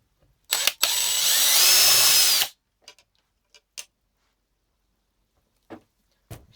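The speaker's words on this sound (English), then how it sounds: "So I'm going to drill this one in to make sure." A power drill bores screw holes into a cross-country ski to mount Pilot bindings on an NNN plate, one close, steady whirring burst of about two seconds followed by a few faint clicks and taps.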